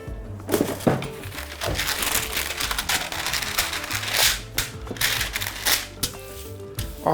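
A sheet of baking parchment paper being torn off and handled in a home kitchen, crinkling and rustling up close in irregular bursts with a few sharper crackles.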